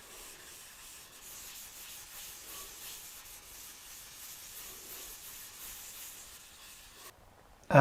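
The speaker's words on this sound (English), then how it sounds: "you should use a block and you should do the block sanding" Steady, even sanding hisses as a block rubs back and forth across primer on a bike's paint for several seconds, then stops abruptly with a close knock.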